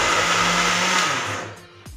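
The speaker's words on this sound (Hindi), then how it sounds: "अब बहुत ख़ास इससे ग्राइंड करना है, ग्राइंड बिल्कुल दरदरा करना है।" A kitchen mixer grinder whirs loudly and steadily as it coarsely grinds cooked chana dal, then winds down and stops near the end.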